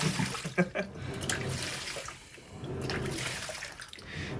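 Steady sloshing and churning water from a Panasonic 9.5 kg top-load washing machine, a continuous wet swishing with a few brief clunks near the start.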